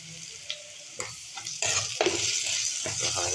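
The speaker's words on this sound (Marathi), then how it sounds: "कांद्याला एक 5 मिनिट याला परतून घेऊया." Chopped onions with a pinch of fine salt sauté in a pan for a Belgaum-style dry crab masala, with steady sizzling and intermittent stirring scrapes that grow louder and denser partway through.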